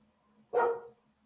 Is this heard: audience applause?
no